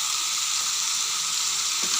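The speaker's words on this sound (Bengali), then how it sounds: "তুলে মাংসটাকে আবার ভাজা ভাজা করে নেব ঝোল শুকিয়ে" Chicken meat frying in a pan as the curry's liquid cooks off, a steady, close sizzle that holds evenly throughout, with one brief stir near the end.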